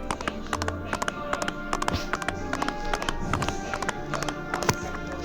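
Horse hooves in a video game set on a snowy island clop in quick, irregular taps, fairly close and moderately loud, repeating steadily as the horse moves.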